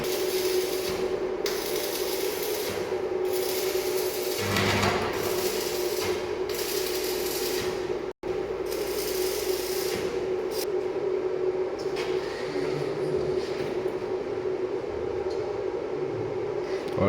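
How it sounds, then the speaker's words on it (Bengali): A flange being welded onto six-inch iron pipe makes a steady, dense crackling hiss over a constant hum that carries on almost unbroken, with one momentary cutout midway. "ছয় ইঞ্চি লোয়ার পাইপ ফ্ল্যাঞ্জ ওয়েল্ডিং করা হচ্ছে।"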